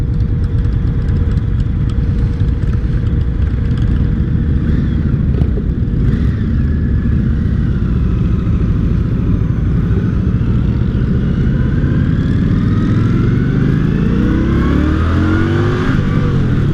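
Indian Scout 60 cruiser motorcycle engine running steadily on a ride, loud and close, with low rumble and rising revs near the end; no talking.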